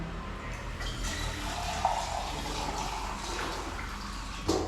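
Water pours steadily into a pot, a continuous splashing gush lasting several seconds, with a couple of faint knocks.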